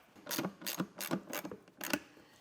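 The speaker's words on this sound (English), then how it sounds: "the 7mm on a ratchet is definitely the way to go" A ratchet fitted with a 7mm socket tightens a bolt on a detail cart, giving five evenly spaced bursts of quiet, close clicking.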